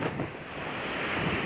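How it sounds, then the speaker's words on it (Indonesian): Sea waves surge and wash during a coastal tidal flood on the north Java coast, a broad rushing roar with wind buffeting the microphone, steady and close, no voices. "Ombaknya kayak gitu teman-teman ya."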